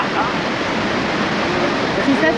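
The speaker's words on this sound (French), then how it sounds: "Oh bah effectivement, une cascade chaude." Steady, full-bodied rush of a warm waterfall in Guadeloupe, a continuous broadband roar with no breaks, close and fairly loud.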